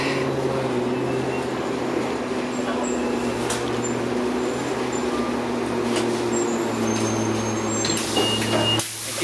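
Inside an Orion VII 8000 transit bus on an express run in Etobicoke, Toronto, a steady loud cabin drone with a low engine hum and rattles, with a brief sharp clatter near the end.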